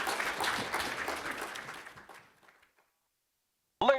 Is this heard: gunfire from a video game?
no